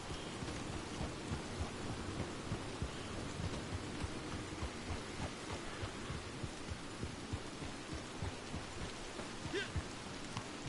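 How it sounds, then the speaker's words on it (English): Steady heavy rain with low rumbling thunder during a storm in the video game Red Dead Redemption 2, a dense continuous downpour that fills the whole stretch without pause. "Look at that rain. It's wisping down. That's what the rain's doing."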